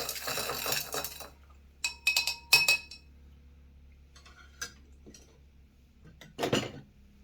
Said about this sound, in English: Now, I'm going to stir this up a bit again.